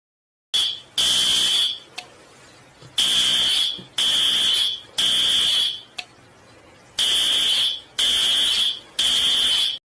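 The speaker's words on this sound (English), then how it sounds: "So let's put the fire alarm." A school fire alarm blares in repeated loud, shrill electronic bursts of about a second each, separated by short gaps and a couple of longer pauses, with no talk over it.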